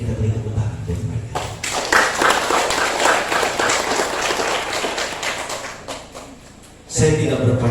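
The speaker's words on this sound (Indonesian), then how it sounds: "kita beri tepuk tangan buat mereka" An audience of parishioners clapping in applause inside a Catholic church at the inauguration of St. Yosef church in Mijau, a dense sustained patter that rises, carries on for several seconds, eases off, then swells again.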